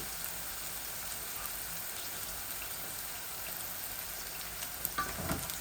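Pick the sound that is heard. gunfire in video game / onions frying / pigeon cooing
onions frying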